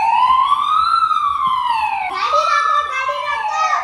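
A police siren from a phone app, one loud wailing tone that sweeps slowly up and down, then jumps into a harsher, warbling pattern for the last couple of seconds, heard up close.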